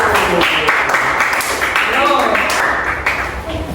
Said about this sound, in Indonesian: Beri tepuk tangan untuk Vero